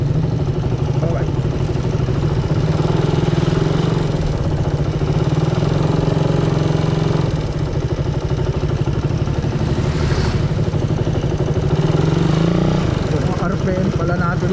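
Suzuki Raider 150 motorcycle idling at about 1,500 RPM, a steady close, continuous engine rumble with a loose mechanical clatter, holding constant throughout with slight fluctuations.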